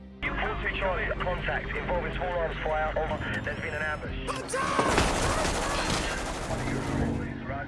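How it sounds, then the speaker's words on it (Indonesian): Gunfire in an action film battle scene set in Afghanistan with marines under attack: bursts of shots and rapid automatic fire ring out under dramatic music and voices, growing louder and denser toward the end. "seorang marinir khusus bernama Joseph Smith sedang membrutal menembakkan senjatanya sambil membawa seseorang."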